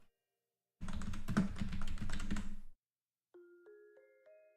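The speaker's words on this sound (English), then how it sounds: "Hold on a second, I'm typing a poll." Quick burst of typing on a computer keyboard, close and crisp clicks for about two seconds, followed by a few soft electronic chime tones in an otherwise quiet room.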